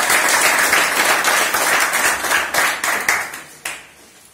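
A crowd claps for the team after a football win by the Leopards over Angola: loud, dense applause that rings on for several seconds, then thins out and fades near the end.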